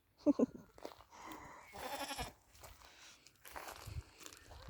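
Male goat bleating close by in a farmyard, a short quavering call at the start followed by quiet rustling and movement.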